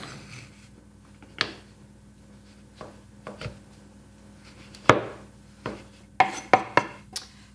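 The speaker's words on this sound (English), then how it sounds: "So I'm also chopping" Knife blade chopping chocolate on a cutting board in scattered chops, sparse at first and then quicker, close up with no talking.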